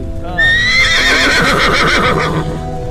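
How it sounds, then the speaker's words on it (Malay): A horse whinnies loudly and close by, a long shaky neigh that rises and trails off over a couple of seconds against a busy outdoor background. "Ada kuda."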